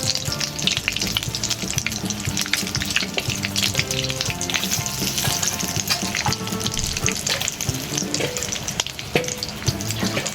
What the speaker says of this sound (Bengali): ওই তেলের মধ্যে দুটো তেজপাতা আর কিছুটা শুকনো লঙ্কা আমি এতে দিয়ে দেব।